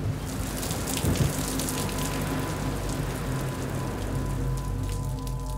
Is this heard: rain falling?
yes